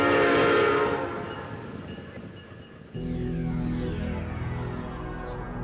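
A special train carries passengers, its rumble fading before a whistle cuts in, followed by a steady, loud rolling drone of the cars.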